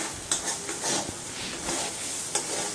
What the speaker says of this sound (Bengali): আঁচটা কমিয়ে দিয়ে নাড়াচাড়াটা করতে হবে